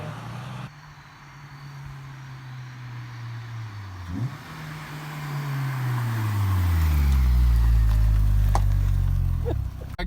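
Honda Civic Si engine tuned with a Hondata Flashpro revs up as VTEC engages, the note rising through several harmonics and growing louder over the last seconds, with no talking.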